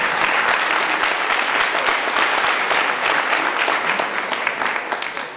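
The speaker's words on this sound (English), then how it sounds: "can we have a round of applause for our community leaders?" A crowd at a South Shore leadership conference panel gives community leaders a loud, dense round of applause that stays steady throughout and tapers slightly at the close.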